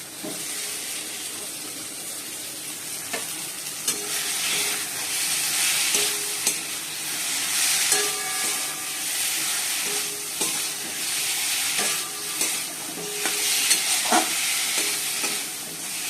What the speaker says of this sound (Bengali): মশলাটাও কষাচ্ছি। আলু আর পটলগুলো দিয়ে দিই।